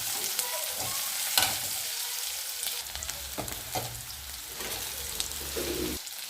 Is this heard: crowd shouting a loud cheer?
no